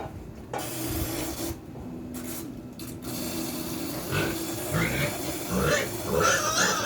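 A pig on a small backyard farm gives a series of short, nasal grunts that grow louder and more frequent in the second half, over a rough scraping background noise.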